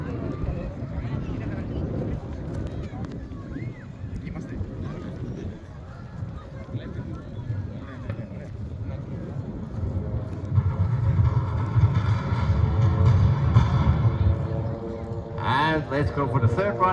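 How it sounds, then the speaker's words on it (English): Pilatus PC-7 training aircraft flying past at an air show in gusty wind, a rising and falling propeller drone building toward the end, heard under a commentator's voice. "They really have to fly very precisely in order to present this crossing in front of you."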